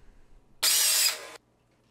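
A short burst of a high-pitched power tool whirring loudly for under a second, then stopping abruptly into near silence.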